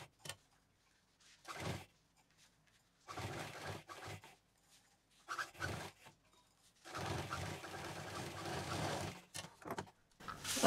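Sewing machine stitching a fabric bag made from leftover cloth, running in several short bursts separated by pauses, with a longer continuous run near the end.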